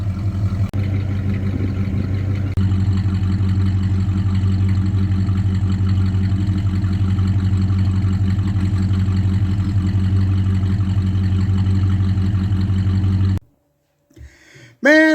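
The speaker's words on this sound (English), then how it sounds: "Even sounds pretty good for a stock 2-barrel 390 with a broomstick for a camshaft." A 1968 Ford XL convertible's stock two-barrel 390 V8 with a mild stock camshaft and a repaired exhaust manifold idles in a steady, loud, even rumble close by, then cuts off near the end with brief murmurs after.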